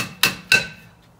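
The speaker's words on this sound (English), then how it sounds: "But I'm gonna try using a hammer." Two sharp metallic hammer blows strike a rusted brake drum on a 2005 Pontiac Grand Am, spaced about a third of a second apart, close and loud, each ringing briefly before fading.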